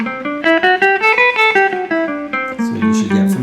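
A quick A melodic minor line on guitar, a dozen or so crisply picked notes climbing and then descending, played close and alone.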